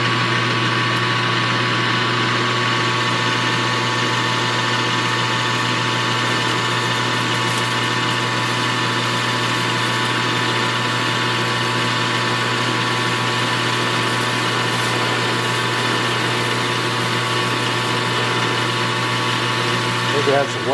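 A machine tool cuts a metal part for a Stirling helicopter, giving a steady, continuous mechanical drone with a constant hum that runs unbroken and fairly loud throughout.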